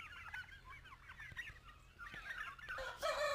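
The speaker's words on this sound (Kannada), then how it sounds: "ಟರ್ಕಿ ಕೋಳಿಗಳು" Three-month-old turkeys on a poultry farm give a run of soft, quick clucks and chatter, fairly close, ending in a louder call.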